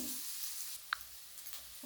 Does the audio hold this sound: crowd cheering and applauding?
no